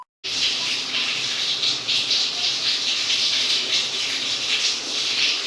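After a brief silence, a pot of falooda mixture bubbles on the stove, a steady, fairly loud hissing and bubbling that runs without pause and with no voices over it.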